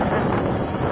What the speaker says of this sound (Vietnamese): Đổ quá, gió nó đảo quá.